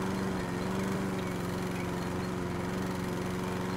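A steady, droning lawn mower engine from the video game House Flipper's Garden Flipper cuts grass, holding an even, constant hum throughout at a close, loud level.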